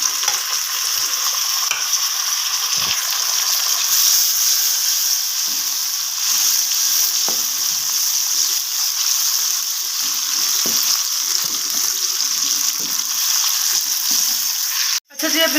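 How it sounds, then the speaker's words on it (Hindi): Tomatoes frying in a pan for a potato and cabbage handi, a steady loud sizzle with scraping stirs throughout, ending in a brief sharp knock. "अब इसको ना हम अच्छे तरीके से भून लेंगे"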